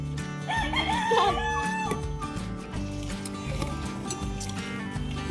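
A rooster crows loudly near an onion farm field in Nueva Ecija, with chickens clucking and faint voices in the background throughout.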